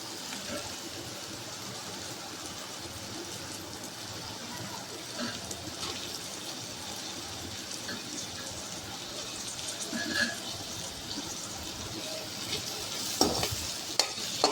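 Onions and carrots sizzle steadily in a hot pan, with occasional scraping as they are stirred, close up and continuous, with no talking.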